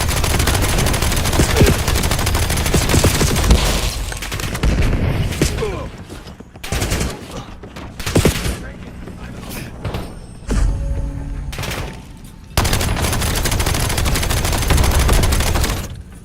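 Heavy gunfire in a video game sounds as loud bursts of automatic fire and crackling shots, mostly dense and continuous, with pauses carrying sharp single bangs and thuds before sustained firing resumes, and no clear talking.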